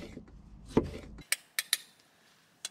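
A knife slices cherry tomatoes on a board while fish is prepared for cooking. After a short dull rustle, several crisp clicks and taps land close by with brief gaps between them.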